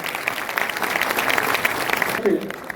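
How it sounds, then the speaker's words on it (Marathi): Loud sustained applause from a crowd at a Republican Party of India felicitation gathering in Panvel, Raigad, steady clapping throughout with a voice calling out over it near the end. "जोरदार टाळ्या झाल्या पाहिजे"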